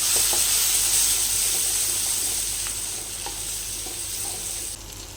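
Tomato egg curry in a pan, with a steady loud sizzle and a few light stirring scrapes throughout and no voices.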